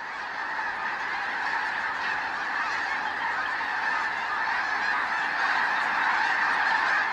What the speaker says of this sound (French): les oies des neiges se remettent en route